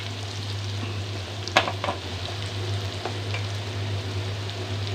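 Garlic frying with onions in a pan gives a constant soft sizzle under a low steady hum, with a few sharp stirring clatters near the start.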